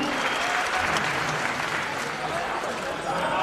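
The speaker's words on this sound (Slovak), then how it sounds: "tento potlesk ide jemu" A packed boxing-event audience applauds Olympic champion Ján Zachara before a bout, with dense, steady clapping and crowd noise filling the hall at an even level throughout.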